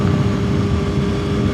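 A Yamaha R6 motorcycle's exhaust drones steadily and loudly while riding, a dense low rumble mixed with wind noise that stays constant throughout.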